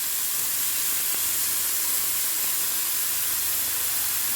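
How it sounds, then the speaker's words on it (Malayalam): Onions and curry leaves sauté with salt in a hot pan, giving a steady, even sizzling hiss that stays constant throughout, close by with no talk. "ഇനി ഇതൊന്ന് വഴലണം. അത് പെട്ടെന്ന് വഴലാൻ വേണ്ടി നമുക്കല്പം ഉപ്പ് കൂടെ ഒഴിച്ച് കൊടുക്കാം."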